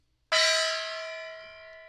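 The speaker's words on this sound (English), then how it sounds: "Our own, very own gong. We have a gong." A single struck gong rings out loud and clear after brief silence, then its bright metallic tone slowly decays over about a second and a half.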